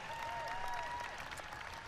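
Brief applause from an audience at an outdoor White House event on a warm day, faint and steady clapping for under two seconds.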